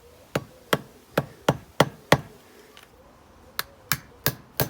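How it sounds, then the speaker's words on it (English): A big hammer striking a rear suspension part: sharp, loud metallic blows, six evenly spaced hits, a brief pause, then four more, each ringing briefly and close by. "Let's get the big hammer."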